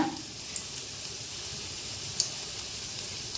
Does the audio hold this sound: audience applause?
no